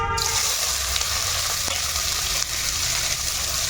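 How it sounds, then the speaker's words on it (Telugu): Sliced onions and green chilies sizzle and crackle steadily in hot oil in a pressure cooker, a dense, continuous frying hiss with a brief stirring scrape. "ఇక్కడ ఆయిల్ వేసుకున్నాను అందులోకి ఉల్లిపాయలు పచ్చిమిర్చి ముందుగా వేస్తున్నాను"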